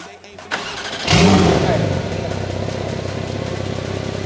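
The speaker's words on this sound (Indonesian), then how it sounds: "Oke, mobilnya udah nyala." A Porsche 911 GTS fitted with an IPE exhaust cranks briefly and fires up with a loud rising roar, then settles into a steady, rumbling idle.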